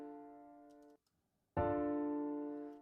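A synthetic piano chord sounds and fades, breaks off into near silence, then a second chord strikes louder and rings out, with no voices.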